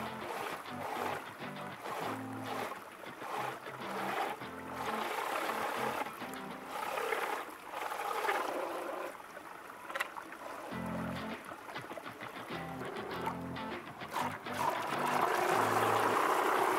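Homemade DIY RC truck driving through water, a continuous churning splash and trickle with a motor whine running underneath, moderately close and fairly steady throughout.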